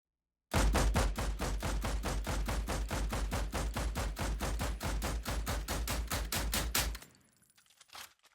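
Rapid automatic gunfire from a video game weapon fires in an even, relentless burst of about two dozen loud, close shots, then cuts off into a brief fading tail.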